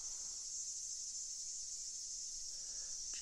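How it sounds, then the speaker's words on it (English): Cicadas in a ghost gum tree drone in a constant high, even buzz that stays at one level throughout, close overhead in a desert oasis setting, with a brief faint knock near the end. "It's these cicadas, I believe, in this tree, this ghost gum tree just here."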